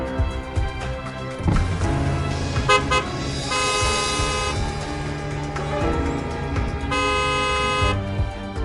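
Car horns honk repeatedly in a traffic jam, several loud overlapping toots and sustained blasts over the steady rumble of road traffic.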